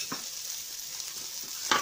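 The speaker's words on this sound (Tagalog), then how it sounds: "At haluin lang natin." Ginataang kalabasa, squash simmering in coconut milk, gets stirred in a pan, giving a soft bubbling hiss with a few faint spoon scrapes and a louder clatter at the end, close and quiet with no talking.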